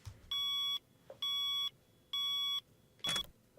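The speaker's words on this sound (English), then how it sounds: "I'm surprised her alarm clock is in the opening song." An alarm clock in the Seduce Me visual novel game beeps in three evenly spaced bursts of rapid electronic tones, followed by a shorter fourth burst, clear and alone.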